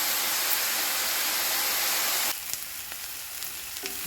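Ginger garlic paste and onions frying in a pan for egg burji, with a loud, dense sizzle that suddenly drops to a softer crackle, marked by a few small stirring taps near the end.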